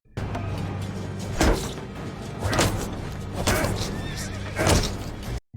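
A horse in a Game of Thrones scene whinnies and snorts in several loud bursts over a low rumbling background, fairly close.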